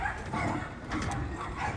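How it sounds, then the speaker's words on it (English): Dogs next door bark and yip in short bursts at a distance in Barbados, repeating irregularly against a muffled background. "next door's annoying dogs"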